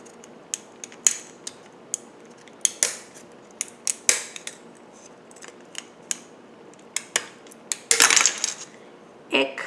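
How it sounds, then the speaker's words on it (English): Kuhn Rikon kitchen shears snip through a piece of tin in repeated sharp metallic clicks and crunches, irregularly spaced, close up and fairly loud, ending in a clattering rustle. "Now this is some tin. I'm going to see if I'll cut that."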